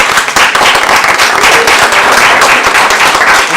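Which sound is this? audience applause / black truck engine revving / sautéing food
audience applause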